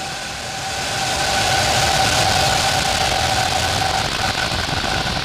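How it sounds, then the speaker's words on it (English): A Falcon 9 rocket's engines roar at liftoff, a dense, continuous rumble that swells over the first second and holds loud and steady, with no voices over it. "Ignition. Liftoff. Go Falcon."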